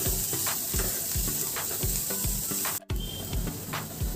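Grated carrot sautéing in a pan, a steady sizzle with repeated soft scraping strokes of a spatula at a regular rhythm, close and alone, with a brief cut near the end.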